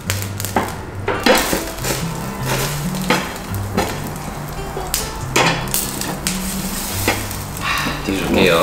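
Korean beef rib-end meat (maguri-sal) cooking on a grill at a hanwoo galbi restaurant, with a steady sizzle under clinking dishes, metal tongs and utensils, while someone speaks over it.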